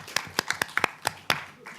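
A few scattered, distinct claps from a small audience at a talk on data and jurisdiction, irregular and sparse rather than a full ovation, with a faint voice beneath.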